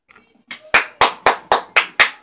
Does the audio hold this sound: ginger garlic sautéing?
no